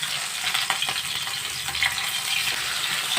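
Small carp-type fish frying in hot oil in a wok: a constant, close, crackling sizzle with faint spattering pops, no voices.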